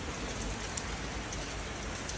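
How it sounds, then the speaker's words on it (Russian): Steady rain falls on a city street in Schwerin, Germany, a dense, even hiss of drops with no pauses, heard on its own at moderate, close level. "Дождь."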